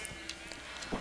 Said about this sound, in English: So while I'm shearing all these sheeps and whatnot